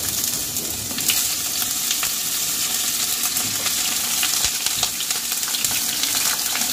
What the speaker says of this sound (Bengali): বেগুনটাও আমি গায়ে রং ধরা অবধি ভেজে নেব।